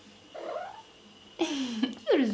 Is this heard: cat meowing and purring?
yes